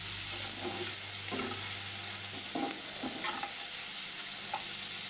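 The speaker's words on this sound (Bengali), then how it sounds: "পেঁয়াজ ভাজা হয়ে গেছে" Chopped onions soften in hot oil in a pan with a pinch of salt, giving a steady, close, even sizzle that runs without a break, with faint scrapes of stirring now and then.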